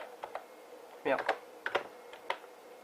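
Keys tapping on an old 1991 computer keyboard, an irregular run of clicks and clacks with a denser cluster in the middle and a low murmur underneath.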